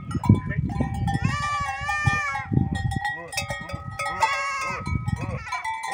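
Goats on a small farm bleat repeatedly in wavering, nasal cries, several calls overlapping near and loud, with rustling and a person speaking between them.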